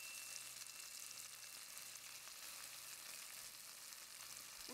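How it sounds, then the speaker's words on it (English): Gochujang and tomatoes sauteing in a pan for a vegan Korean rose pasta sauce, giving a soft, steady sizzle that runs evenly throughout without any talk. "We're going to saute this gochujang for about a minute."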